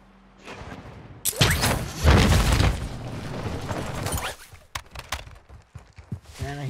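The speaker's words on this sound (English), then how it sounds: "I hear gunfire in the distance on the right." Distant gunfire in Call of Duty Warzone 2.0, a burst of loud booming shots and crackling impacts early on, followed by scattered sharper pops and clatter off to one side in a busy game soundscape.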